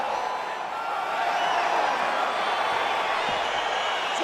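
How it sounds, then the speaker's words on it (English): A dense arena crowd roars and cheers continuously as a fight gets underway in EA Sports UFC 4, a broad, steady wash of excited noise. "crowd getting excited as this fight gets underway"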